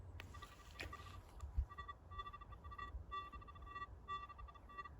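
A Nokta Legend metal detector with ground balance set too high gives off a steady high electronic tone, repeated in short pulses, faint and close, with no talking.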